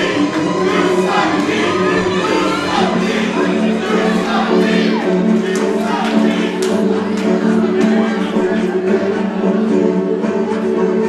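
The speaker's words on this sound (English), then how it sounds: "And now the crowd letting Mr. D know what they think of him" A wrestling arena crowd at a UCW-ZERO event reacts loudly to a wrestler, a dense, continuous roar of jeers and shouts filling the space without letup.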